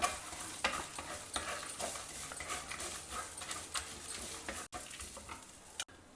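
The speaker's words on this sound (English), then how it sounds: "just roast this also for a minute or so along with the other spices" Fresh grated coconut roasting with spices in a pan, a steady close sizzle under repeated scraping strokes of a spoon against the metal, the stirring loud and continuous.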